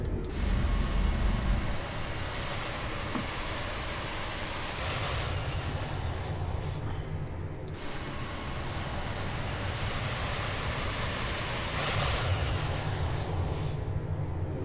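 Cockpit ambience of a Boeing 737-800 BBJ in Microsoft Flight Simulator as the flaps extend, a steady airplane engine roar with brief mechanical shifts and drops in level, alone without talk.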